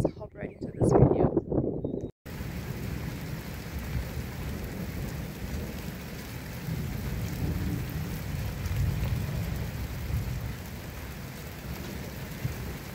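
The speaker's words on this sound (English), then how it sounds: "We're just enjoying the best rains that we've seen in a long time." Steady, dense rain falls on a village garden, a continuous close hiss with a low rumble beneath, after a brief stretch of someone talking at the start.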